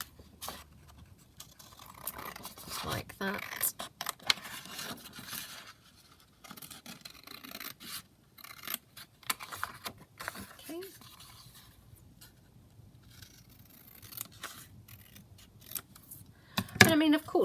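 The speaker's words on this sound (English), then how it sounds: "So I'm just going to cut this journaling card out like that." Scissors snipping a journaling card out of paper for a junk journal, a run of quiet, close clicks and rustling paper across a longer stretch, with brief pauses between cuts.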